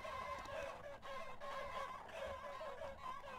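Chickens clucking and squawking in the battle game Totally Accurate Battle Simulator, a busy, continuous stream of overlapping fowl calls amid battle noise, fairly loud and steady with no talk.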